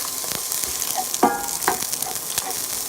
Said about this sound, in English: I'm going to come in with the onions first.